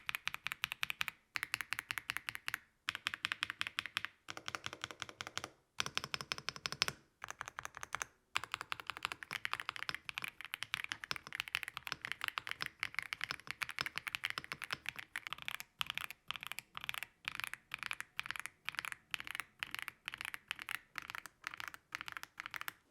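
Typing on a budget mechanical gaming keyboard, with rapid, close clacky keystrokes in steady bursts separated by brief pauses, sustained throughout.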